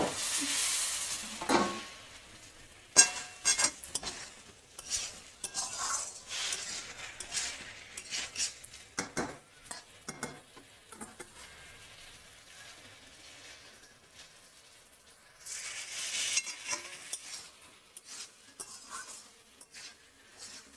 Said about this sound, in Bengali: একটু জল দিয়ে কষতে থাকবো